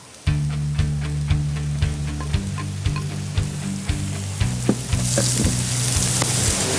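Mushrooms and onion frying in a pan give a steady bright sizzle, with a faint rhythmic music bed underneath and a few soft clicks of stirring.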